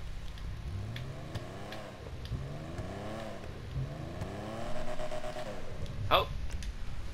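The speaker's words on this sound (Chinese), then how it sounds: "感觉那个引擎声闷闷的。" Repeated revving from a Benefactor Stirling GT classic sports car in GTA 5, several rising and falling engine sweeps close by over a steady idle, with a voice speaking over part of it.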